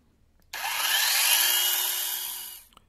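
Cordless brushless 16-inch electric chainsaw running alone, a sharp start into a steady, fairly loud high whine that holds for about two seconds, then winds down quickly.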